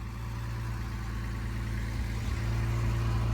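Steady idle of a 1971 Mercedes-Benz 280SL engine after a coil replacement, a close, even rumble with a low hum and no change in revs, and nobody talking.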